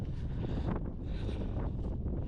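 Steady wind buffeting the microphone on a Scottish mountain, Ben Donich, a constant low rumbling roar with gusty rises, no voices.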